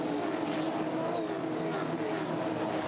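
Supercars race cars at the Adelaide 500 street circuit, a steady loud engine roar that builds out of turn 5 and holds throughout, with the pitch shifting as the cars pass, plus faint commentary underneath.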